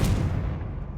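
A single Confringo blasting spell goes off in Hogwarts Legacy, a close, heavy boom that hits at once and then fades into a low rumbling tail.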